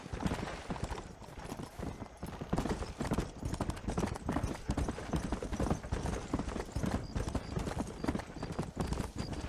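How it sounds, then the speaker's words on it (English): Several horses gallop in the video game Red Dead Redemption, hooves clip-clopping in a dense, rapid, continuous rhythm that stays loud throughout, with a faint whinny and no clear talk. "Get on your horses!"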